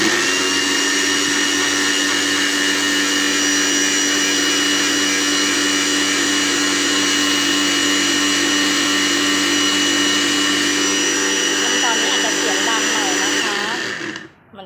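A loud blender blending chopped papaya leaves runs continuously at high speed with a steady whirring drone, its motor churning for a long stretch before cutting off abruptly.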